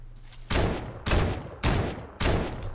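Four loud bursts of automatic rifle gunfire in a video game fire at an even pace, sharp and close, with brief gaps between them and no one talking.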